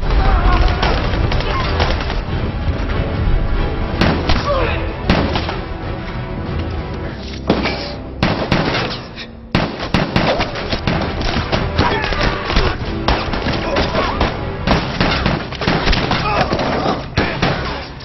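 Gunfight between troops and North Korean soldiers guarding the Palmido lighthouse in a Korean War film, a dense, loud and continuous barrage of gunfire, bangs and explosions, mixed with music and voices, with no pause for the full length.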